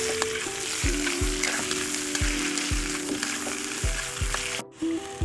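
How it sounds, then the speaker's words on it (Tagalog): Garlic, onion and pork sauté in a hot pan with a steady, close sizzle, broken by regular scraping thuds of a spatula stirring, then a brief pause near the end. "Magisa na tayo ng bawang, sibuyas at ilagay na natin yung karne at halu-haluin."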